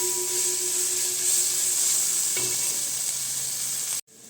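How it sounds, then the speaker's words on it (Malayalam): Chicken and rice ingredients sizzle steadily in hot oil in a pan, a loud continuous frying hiss with a brief scrape of stirring midway before the sound cuts off abruptly. "നന്നായിട്ടൊന്ന് വഴണ്ട് വരട്ടെ."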